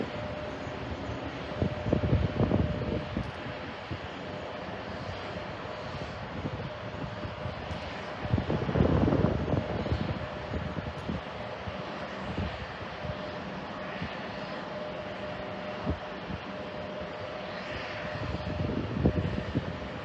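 Airplanes arrive at JFK Airport on parallel approaches, a continuous jet engine roar with several swelling passes as aircraft come overhead and fade, with no talk.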